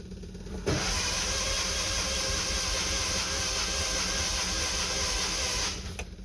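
Starter steadily cranking a 50-year-old engine that fails to catch, a continuous loud whirring churn lasting about five seconds before cutting off.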